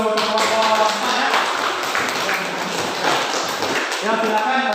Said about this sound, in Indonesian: tepuk tangan dulu untuk kelompok 4 ya